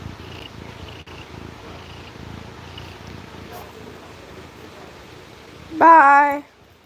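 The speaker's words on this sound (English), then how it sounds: "Pappy, you're a big fat cat." A big, fluffy cat purrs close by with a soft, low, continuous rumble, then a brief, louder high call near the end.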